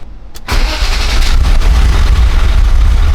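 An abandoned BMW engine gives a short crank, catches within half a second, and settles into a loud, close, steady idle.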